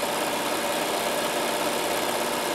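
A sewing machine stitches fabric for a fat-quarter produce bag, its motor running as a steady, even whir with no pauses for the whole moment.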